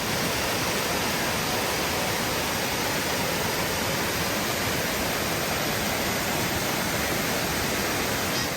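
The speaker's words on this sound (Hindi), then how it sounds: "पानी बह रहा है" Steady rushing of stream water flowing at Narah in the Kaghan valley, a dense continuous broadband wash heard up close, constant in level with no voices over it.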